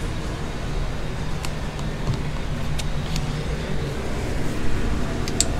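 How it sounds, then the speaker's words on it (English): A fan drones steadily in a hot garage where a fuel pump and wiring harness are being fitted to a C5 Corvette, a constant broadband whoosh with occasional faint clicks. "Sorry about the fan noise."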